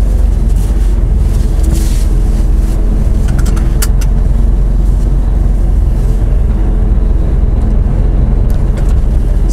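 A truck hauling a semi-trailer drives along, giving a loud, constant engine and road rumble with steady wind noise throughout and no talking.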